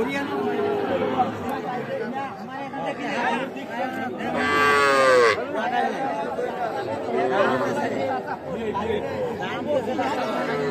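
Several cattle, including young bulls and heifer calves, moo loudly at a livestock market, one long call standing out, over busy crowd chatter and people talking nearby.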